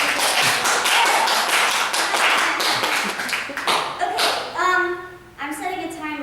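A small audience at a talk on biology and science outreach claps briefly, a lively patter of hands for about four seconds that thins out and gives way to someone speaking close by.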